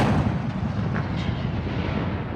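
M777 towed 155mm howitzers fired by U.S. Marines in a live-fire exercise: a massive, sustained broadband roar fills the whole stretch, a loud close blast and its rumbling tail with no voices over it.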